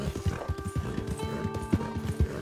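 A horse's hooves clip-clop steadily while being ridden in Red Dead Redemption 2, an even rhythmic series of soft thuds, close and fairly quiet, with no talking.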